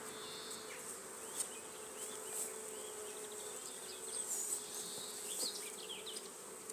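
A swarm of bees buzzes in and around a WBC hive, a steady close hum with individual bees droning past now and then, alone with no voices.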